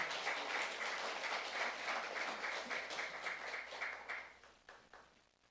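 A church congregation bursts into sustained applause, dense and steady clapping that fills the room, then gradually thins and fades toward the end.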